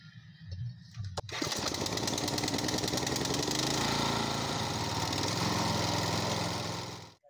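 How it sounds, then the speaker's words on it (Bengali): A Honda pump set engine starts up in a field watering a cauliflower plot, a brief rattle and pull before the motor catches and runs loud, steady and close, then cuts out at the end. "বন্ধুরা, এটা হোন্ডা পাম্পসেট, তোমরা যাই বলো, এটা হলো গিয়ে বলওয়ান কোম্পানির।"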